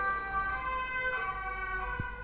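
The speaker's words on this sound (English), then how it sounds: "a reminder there of our non-perfect world with a police car going past" A police car siren wails steadily as it goes past, its sustained tone carrying over low road noise without fading, and no one speaks.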